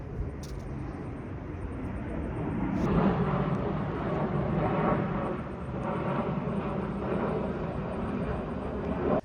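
Airplane passing overhead above a home garden, a steady broad roar that swells near the middle and holds fairly loud throughout, with faint high chirps in the background.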